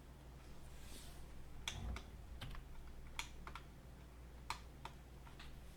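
Keystrokes on a computer keyboard as commands are entered in CAD drafting software: a handful of separate, sharp clicks spaced irregularly over a steady low hum, close and moderately quiet, with no talking.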